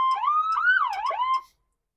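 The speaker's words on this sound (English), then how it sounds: "So these are our siren tones." Siren tones from the controller of a Ford Bronco police chief's response vehicle, a loud, close electronic wail sweeping up and down for about a second and a half, then cutting off.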